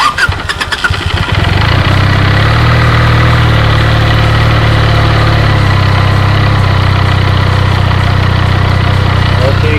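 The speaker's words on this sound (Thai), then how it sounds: "สตาร์ทเครื่องให้มันปั่นเข้าระบบนะครับ" A Benelli TNT300 motorcycle engine cranks and fires after an oil change with fresh Mobil Super Moto 10W40, catching within about a second and settling into a loud, steady, close idle rumble.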